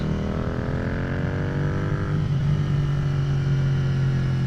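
Idling motorcycle engine, a steady low rumble with a constant droning hum and a slight shift in tone partway through, close and continuous with no talk over it.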